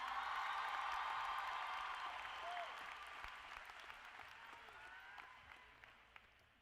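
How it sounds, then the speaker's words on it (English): An audience at a high school graduation ceremony applauds for the class president, a broad wash of distant clapping that gradually fades toward the end. "please give another round of applause to your president"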